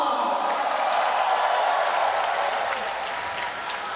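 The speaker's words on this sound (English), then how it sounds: "When he comes onto the track, the crowd go berserk" A large home crowd at a UCI Track World Cup velodrome in Nilai, Malaysia roars and applauds steadily for a local track cyclist, a dense continuous wash of cheering and clapping that fades slightly toward the end.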